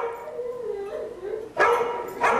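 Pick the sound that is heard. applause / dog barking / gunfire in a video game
dog barking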